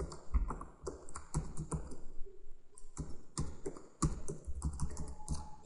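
Steady typing on a computer keyboard while entering code, close and clear: rapid clusters of key taps with short pauses between bursts, no speech.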